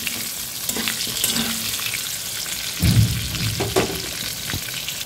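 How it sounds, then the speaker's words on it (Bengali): Potatoes fry in a wok for a festive khichuri, a moderate continuous sizzle with a few stirring scrapes and a brief louder burst midway, heard close with no voices. "আমি প্রথমে আলুটা ভেজে নিচ্ছি।"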